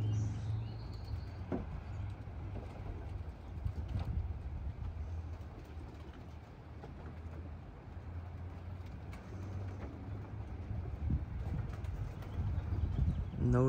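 Young racing pigeons coo and flutter faintly over a steady low rumble of machinery or traffic, with no one speaking.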